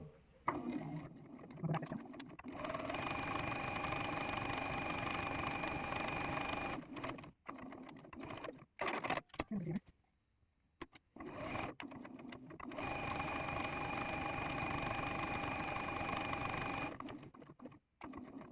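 A sewing machine stitches in the ditch along a quilt seam with a stitch-in-the-ditch foot, running in two long steady bursts of close, continuous mechanical whirring separated by a brief pause.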